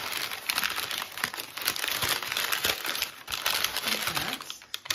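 Paper bag being folded down into a small cup shape, with steady close crinkling and crumpling of paper throughout, continuous and fairly loud with brief sharper rustles.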